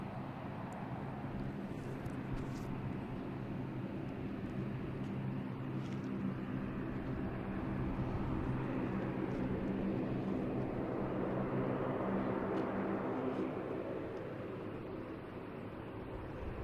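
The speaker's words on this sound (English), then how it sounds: "We have a JetBlue coming in from Cleveland" A JetBlue airliner arriving from Cleveland at Boston Logan Airport, a steady distant jet roar that swells gradually toward the middle and then slowly fades, heard from afar without talk.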